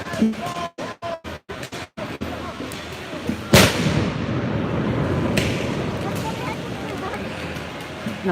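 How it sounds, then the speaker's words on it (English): Police fire pepper balls at protesters during a night street protest in Portland: a rapid string of sharp pops at the start, then one loud blast followed by a continuous roar of crowd noise. "are advancing on us while shooting, I believe, pepper balls."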